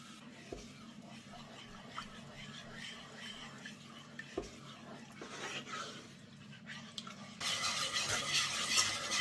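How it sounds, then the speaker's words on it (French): A whisk stirring milk into a cooked white roux in a pan, soft steady scraping and swishing close by that grows louder and busier toward the end, with faint voice-like sounds underneath. "Portez à ébullition sans arrêter de remuer avec un fouet."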